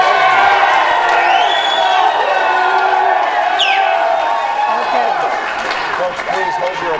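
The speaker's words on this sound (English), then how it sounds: "Applause." An audience at a Republican governors debate in Pennsylvania applauds and cheers, a steady crowd roar with whoops that carries throughout, while people call out over it.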